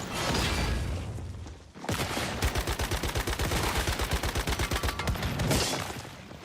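Automatic gunfire in the video game Once Human: a short burst, a brief gap, then a long rapid run of evenly spaced, loud shots lasting several seconds.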